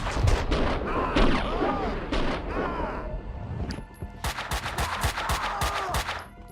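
Pistol shots ring out in the Stranglehold game, a dense run of sharp cracks at first, then a brief lull, then a fresh volley of repeated gunfire with some crashing debris.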